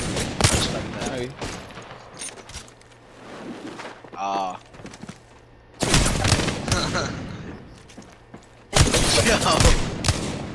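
Bursts of gunfire from an online shooter video game, loud clustered volleys at the start and again in the middle and end, with players talking over the action.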